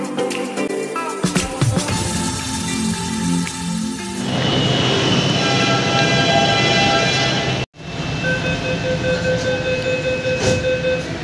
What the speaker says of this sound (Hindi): हम बैठ चुके हैं मेट्रो में